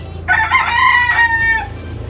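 A Sweater Boston gamefowl rooster crows once in a long, loud, close call that rises and holds before trailing off, over a low steady background hum.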